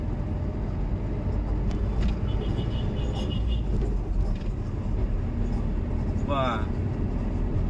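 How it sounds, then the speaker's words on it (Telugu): Heavy road traffic in Bangalore roars as a steady, dense wash of engines, with short horn blasts cutting through near the middle and again toward the end. "ట్రాఫిక్ అంటే పెద్ద ట్రాఫిక్ స్వామి."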